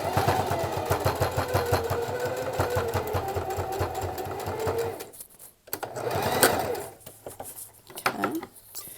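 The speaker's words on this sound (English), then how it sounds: "We get our rubber band, put it in here, and then fold it in and sew it." A sewing machine stitches fabric folded over a rubber band, its rapid even needle pulse running steadily for about five seconds, then stopping, followed by a few softer handling noises and short bursts.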